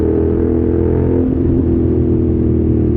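A BMW F900R motorcycle engine running close by, a loud, steady low rumble with a strong throbbing hum and a slight rise in pitch midway as the throttle opens.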